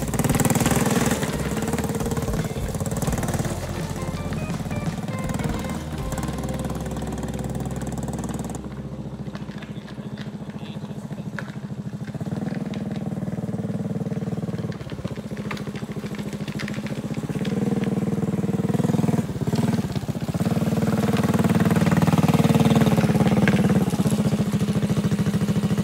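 A Predator 212cc non-hemi small engine fitted with an electric start runs steadily on a drift trike, a loud, continuous mid-pitched drone that holds for the whole stretch without any talk.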